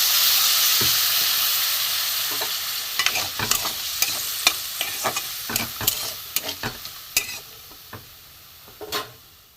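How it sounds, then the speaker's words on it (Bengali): Ground salt, cumin, coriander and turmeric sauté in a hot pan with a steady sizzling hiss, broken by irregular sharp scraping and stirring clicks of a spatula, close and fairly loud, with no voices. "একটু কষিয়ে নেব।"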